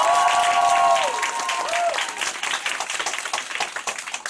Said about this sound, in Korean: 아드님한테 큰 박수 보내주세요.